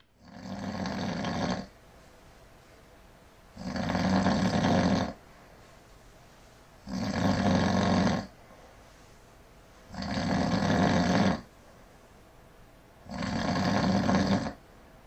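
A man with a slightly broken nose snores loudly in five long, regular rasping breaths, each about a second and a half, separated by quieter pauses; no talking.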